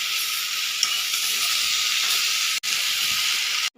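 Chopped ginger and green chillies fry with drumstick pieces in a pan, giving a steady, loud hiss and sizzle that fills the whole clip and cuts out briefly twice.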